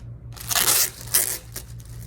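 Plastic packaging for merch fleece shorts crinkles and rustles in a couple of quick, close bursts.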